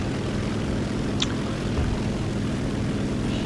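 FW-190A-5/U12 fighter plane engine in War Thunder, a steady droning propeller roar holding constant and loud from start to finish, with a brief faint whistle near the middle.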